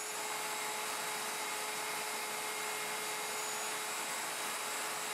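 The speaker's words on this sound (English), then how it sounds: "Then route counterclockwise with the guide pin against the guide to complete the tenon." Plunge router cutting a tenon on a Leigh FMT Pro jig, a steady high-pitched motor whine with constant cutting noise, close and unbroken throughout.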